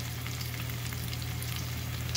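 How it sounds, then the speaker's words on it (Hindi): Onion, tomato and potato fry in oil at home, giving a steady, even sizzle with no pauses, fairly quiet and close. "प्याज और टमेटो और पटेटो भाई आलू ठीक है उसको पूरा तेल में डाल के भून रहा हूँ"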